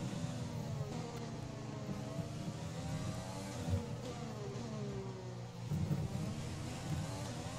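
An F1 car engine in the racing game F1 2020 hums and shifts through rising tones during a race in France, fairly faint and steady over the whole stretch with no talk.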